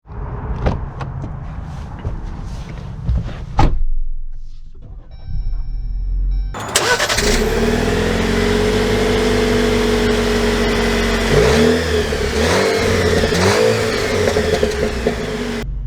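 A 2023 Jeep Wrangler Freedom Edition starts up after a few seconds of door and cabin noises, then its engine settles into a loud steady idle with a couple of rising revs near the end.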